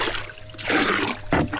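Water is poured at a river in two short splashing bursts, close and fairly loud, over a low steady background.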